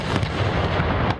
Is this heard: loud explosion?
yes